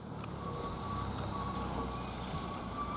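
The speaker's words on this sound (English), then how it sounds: "look, the truck's already back" A ten-wheeler dump truck reverses with a steady, evenly spaced backup beeper sounding at mid distance over a constant low engine drone.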